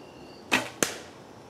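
Two sharp, loud snaps from an arrow loosed off a Samick Sage recurve bow, the second following quickly after the first, set against quiet outdoor background.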